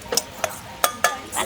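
Almonds being sautéed in a pan for a village-style tender coconut payasam, heard as a few light, sharp scraping clinks of a spoon against the pan, close and fairly quiet, spaced irregularly.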